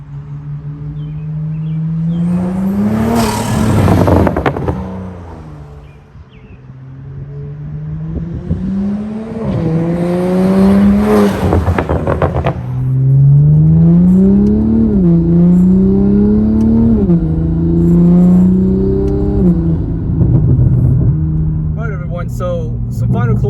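A Toyota GR Supra fitted with an ArmaSpeed carbon intake revs repeatedly, its engine note rising and falling in loud, close sweeps with a throaty intake roar over a steady idle.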